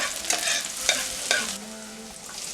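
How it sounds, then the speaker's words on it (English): Garlic frying in a pan, stirred a few times, so that several sharp scraping strokes rise over a soft, steady sizzle. Close and clear, with no talking. "I'm gonna put in my garlic. I like to put in my garlic first."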